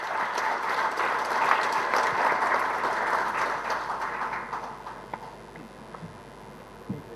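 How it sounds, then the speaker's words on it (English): Conference delegates applaud a memento presentation honoring a past president, with full crowd clapping that gradually thins out into scattered claps toward the end. "A huge round of applause, ladies and gentlemen."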